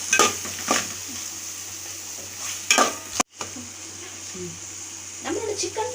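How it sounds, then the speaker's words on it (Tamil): Chili powder being stirred into a chicken mixture for idiyappam biryani in a pan, with soft scraping and sizzling, a few louder spoon strokes at the start and end and a brief clank midway. "2 டீஸ்பூன் மிளகாய் தூள் போட்டு நல்லா கிளறி விட்டுக்கோங்க"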